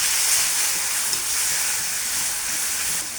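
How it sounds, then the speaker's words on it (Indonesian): Batagor fries in hot oil with a loud, steady sizzle and hiss. The crackling is continuous and close, with no voices over it. "Apabila minyak udah panas, kita siap goreng."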